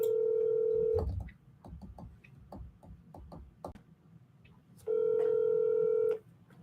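A telephone line gives a steady dial tone, then a rapid run of keypad beeps as a number is dialed for a real estate recruiting cold call. After that comes a second long tone, clear and close, with no talking.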